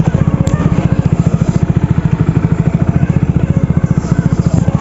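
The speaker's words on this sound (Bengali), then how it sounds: "দেখো সেধারে একটা মোটরসাইকেল যাচ্ছে" A motorcycle engine runs on a village road at night, a close, steady low pulsing throb that holds at an even level throughout with no clear rise or fade.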